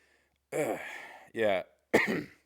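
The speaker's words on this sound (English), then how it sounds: "There's that little cough I was telling you guys about." Three harsh, throaty coughs in quick succession, close to the microphone, separated by short silent pauses.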